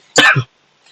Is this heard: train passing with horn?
no